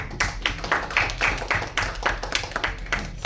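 Audience applause at a music event: steady, dense hand clapping from a crowd, close and continuous, without a break or any talking.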